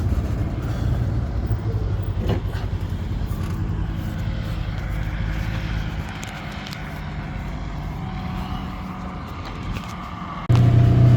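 A vehicle reverses along a dirt pasture road being built for a shipping container, its steady low engine drone and tire rumble continuous and close throughout, with a louder surge at the very end.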